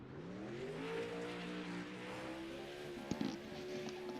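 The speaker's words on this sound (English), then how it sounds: "He's doing his burnouts." A race car in the iRacing video game doing burnouts, its engine holding a steady high drone with tire noise and a couple of brief sharp pops near the end.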